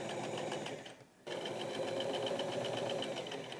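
A sewing machine stitches a lip onto a raincoat hood, a steady, close, fast mechanical whir that breaks off briefly and then resumes without any talk.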